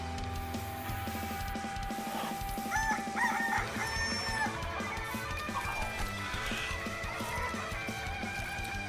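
Chickens cluck and a rooster crows in a video game, in a busy mix of layered game sounds and music, steady and moderately loud.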